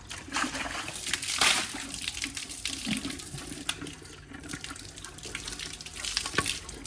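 Water runs steadily from a tap while water cans are washed on a farm, a continuous splashing hiss with a few louder gushes and clatters, no voices.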